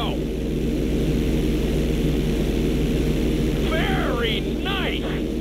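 Airplane doing barrel rolls in GTA 5, a constant droning engine tone that holds steady, with a few brief rising and falling whistling sweeps near the end.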